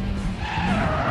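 A car drifts in the racing game Need for Speed World, with a continuous loud tire skid and engine roar that runs without a break for the whole short moment.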